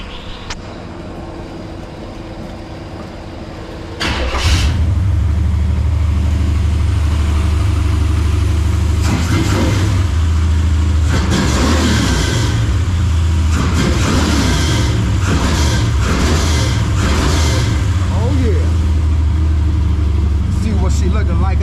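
A car engine with a new muffler turns over and settles into a deep, loud rumble from about four seconds, with occasional revs over a steady idle and people talking nearby.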